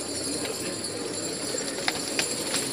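Pigeons, including an all-white bird with black markings, coo softly in a steady, noisy outdoor setting, with faint bird calls sitting low under a constant background hiss and no talk.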